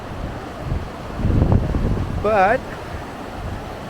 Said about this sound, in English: it's getting very windy and very cold and very wet.